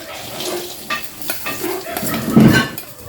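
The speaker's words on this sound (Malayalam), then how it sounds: "അപ്പോൾ നമ്മുടെ നാളികേരങ്ങൾ പരപരാ പൊട്ടുന്നുണ്ട്" Chopped coconut crackles as it fries in ghee, giving soft sizzling and popping mixed with a few clinks and scrapes of a utensil against the pan over a few seconds.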